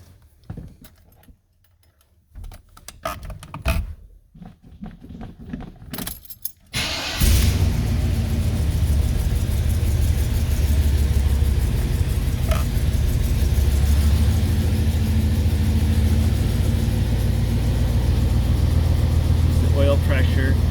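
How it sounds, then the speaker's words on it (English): A 1984 Chevrolet K10 Silverado Limited Edition with its original Quadrajet carburetor and electric choke is cold-started: a few key jingles and ticks in a quiet cab, then the engine catches and settles into a loud, steady, close idle. "we're going to go ahead and do a cold start"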